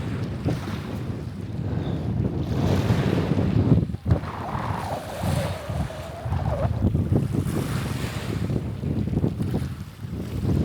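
Wind buffets and waves wash on a Black Sea beach in early May, a steady roar of surf with gusty microphone rumble throughout and no one speaking.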